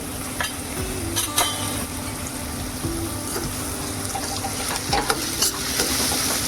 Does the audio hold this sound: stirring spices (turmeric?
yes